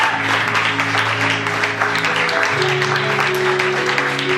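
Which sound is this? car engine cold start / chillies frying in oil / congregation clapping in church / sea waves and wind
congregation clapping in church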